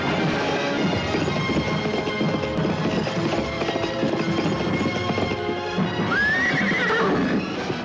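A horse whinnies loudly near the end of a Pakistani film scene, with hooves clip-clopping steadily throughout under a dense, busy soundtrack.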